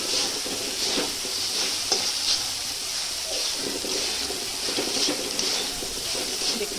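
Flattened rice (poha) turned over in a hot pan, a steady hiss and sizzle with soft repeated scraping stirs throughout, close and even in level, with no speech.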